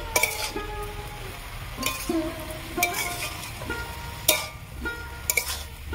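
Salted cabbage with fish head cooked in a pan, stirred with a utensil: repeated scraping strokes and light clinks every second or so over a steady sizzle, with no speech.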